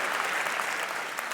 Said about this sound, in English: Can't we give it up for that, like applause or something?